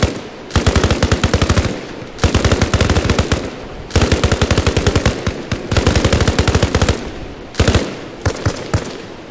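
Suppressing machine gun fire in the Arma Reforger shooter, during a night milsim operation on an Afghanistan map: several long, loud, rapid automatic bursts with brief pauses between them, close by and with no talking.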